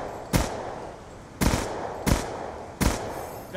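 Four separate gunshots ring out in Black Ops 2 hardcore mode, each a sharp loud crack spaced roughly a second apart over a quiet background.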